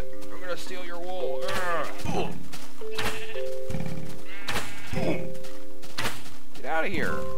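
Minecraft sheep bleats recur several times in quick succession, fairly loud and close, interleaved with someone talking and a dull thunk.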